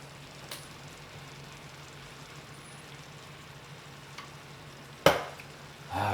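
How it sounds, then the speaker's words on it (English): Chopped onions sauté in a pot for Cajun red beans, giving a soft, steady sizzle with a light clank of a utensil near the end and no talking. "Let them onions saute."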